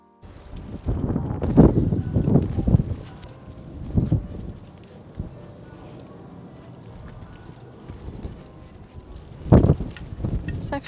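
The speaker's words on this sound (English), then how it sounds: "It's actually not hot here though. It's windy." Gusty wind buffeting the microphone in bursts, rising and falling over a quieter outdoor background, on the clifftop path from Fira to Imerovigli, Santorini.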